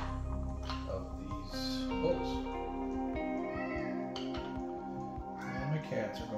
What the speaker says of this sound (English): And my cats are going crazy.